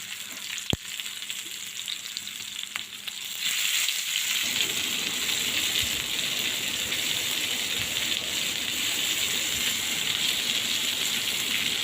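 Magur catfish fry in hot oil with a steady, loud broadband sizzle. The hiss swells after a few seconds and then holds continuously to the end, with a single sharp click near the start.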